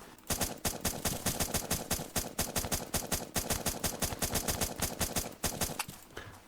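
Rapid automatic gunfire in the Zombs Royale battle royale game, loud, close bursts of sharp shots in a steady rattling rhythm lasting several seconds, with no talking over it.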